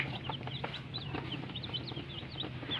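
Sasso chickens clucking steadily at close range, several birds overlapping in a continuous, moderately loud chatter around plastic feeders.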